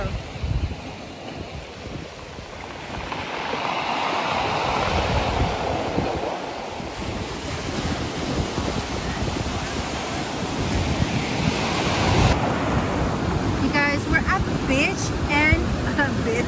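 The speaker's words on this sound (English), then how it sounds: "the waves are really strong" Strong ocean waves crash and roar continuously with heavy wind noise buffeting the microphone, surf building loud and close throughout.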